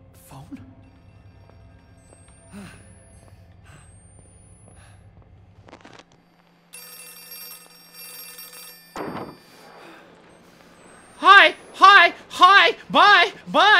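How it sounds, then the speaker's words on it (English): A telephone rings in the horror video game Outlast 2, its bell sounding in a rapid burst of four loud rings near the end after quieter ambient game sounds. "Is that a phone?"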